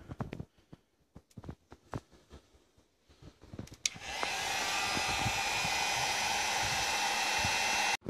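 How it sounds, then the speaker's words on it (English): A heat gun warming a rubber bicycle handlebar grip switches on after several quiet handling clicks and knocks, then blows a loud, steady broadband hiss that holds close and constant to the end. "I'm going to use a heat gun."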